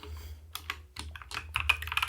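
Keys clatter on a computer keyboard as a task title is typed, a close, irregular run of quick clicks and taps that grows slightly busier toward the end, with no speech.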